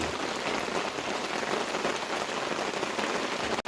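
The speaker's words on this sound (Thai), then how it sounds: "ฝนตกก่อน" Steady, dense rain patters down on a surface in a forest, a constant hiss of drops close by with no voices, ending in a brief click.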